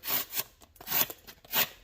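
Three short scraping cuts of a Spyderco Para 3 knife blade through cardboard, close up and quiet, with a dry rasping texture.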